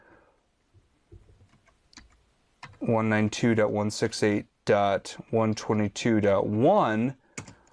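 Keys on a computer keyboard clatter while Linux terminal commands are entered, the light tapping running beneath a man's steady speech.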